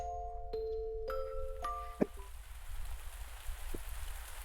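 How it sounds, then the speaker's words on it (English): Rain in the farming video game Pumpkin Days makes a soft, steady hiss. Bright chime tones ring at the start, and a single click sounds partway through, with no talking. "It is raining."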